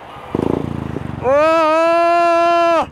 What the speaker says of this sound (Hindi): बाइक स्टार्ट हो गई है